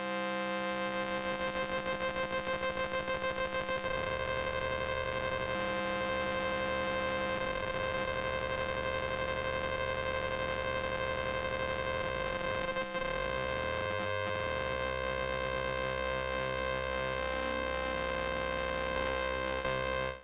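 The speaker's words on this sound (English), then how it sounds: "I think it might sound good to FM the phase distortion." Digitakt II oscillator using phase distortion, frequency-modulated at audio rate, producing a dense buzzing drone with many steady harmonic sidebands and slowly sweeping, warbling tones, sustained and even throughout.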